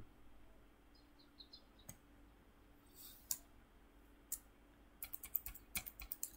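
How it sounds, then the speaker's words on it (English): Sparse, quiet clicks of keyboard typing, a few isolated taps early on and a quicker burst of keystrokes near the end, against a soft hum. "I'm typing the wrong password."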